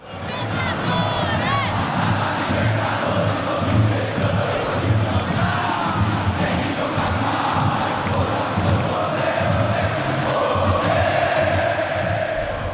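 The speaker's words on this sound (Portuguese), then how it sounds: "Como a torcida canta também" Palmeiras football supporters chanting and roaring together in a packed stadium, a dense, sustained crowd wall of voices with shouts rising above it throughout.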